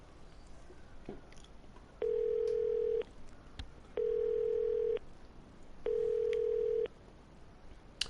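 A payphone in the video game Yakuza 0 gives three evenly spaced, steady one-second tones, with faint clicks and background noise between them.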